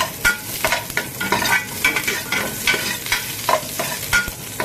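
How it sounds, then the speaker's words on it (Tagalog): Garlic is stirred and sautéed in hot oil in a pan, giving steady sizzling under repeated scraping strokes of a utensil, close up and without talking. "Masi-masi na natin yung bawang."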